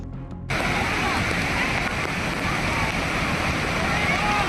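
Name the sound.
waterfall rushing water at Bhushi Dam, Lonavala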